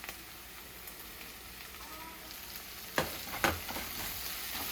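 Onions fry in a pan with a faint, steady sizzle, and a couple of louder stirring scrapes come near the end.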